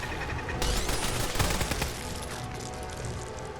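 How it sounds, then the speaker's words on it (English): Automated turrets firing in the Fallout 4 video game, a rapid burst of loud gunfire that swells in the middle and then trails off into a lingering rumble, with no talking. "these turrets just saved my ass"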